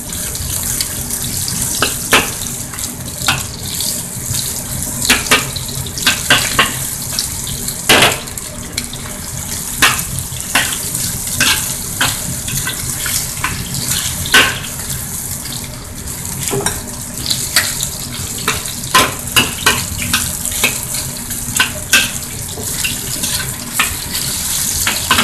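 Beef sizzles in hot oil in a wok for a Chinese beef and broccoli dish, with a loud steady hiss and crackle throughout and occasional sharper pops and spatters.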